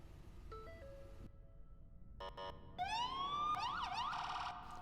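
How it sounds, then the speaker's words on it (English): PA 4000 ambulance siren in a video game, cycling through electronic wail, yelp and warble tones that rise and fall in pitch, clean and fairly loud over a quiet background, with no talk. "I love the sirens on this, the PA 4000."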